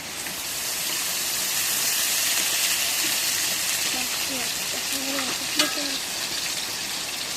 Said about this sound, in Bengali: এখন এই যে কড়াইয়ের মধ্যে তেল দিই।